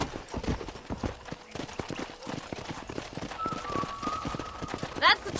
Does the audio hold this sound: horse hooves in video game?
yes